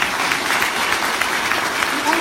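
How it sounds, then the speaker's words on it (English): A conference audience claps steadily throughout a poetry performance, a dense, even patter of applause that neither swells nor fades. "Can we clap it up for all the organizers?"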